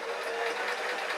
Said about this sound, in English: all I've got on my sewing machine is a nice running stitch